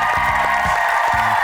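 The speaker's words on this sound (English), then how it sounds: "Give them a round of applause" An audience applauds inline skaters after a skills showcase, a steady wash of clapping heard under someone speaking.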